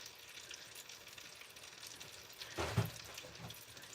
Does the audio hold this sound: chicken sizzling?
yes